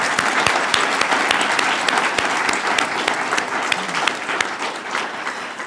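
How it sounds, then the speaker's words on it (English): Warm applause for accomplished students at an oratorical contest awards ceremony, a dense, steady clapping from a sizeable audience that holds for several seconds without fading. "If we could give these accomplished students one more round of applause."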